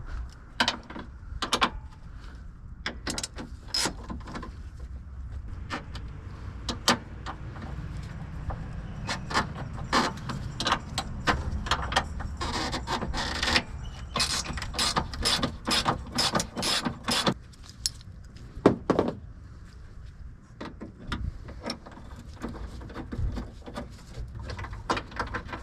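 A 13 millimeter wrench works loose a radiator bolt on a fourth-generation V6, giving a long series of close metallic clicks and ratcheting taps over faint mechanical rattling.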